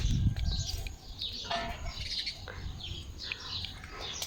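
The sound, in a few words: many birds chirping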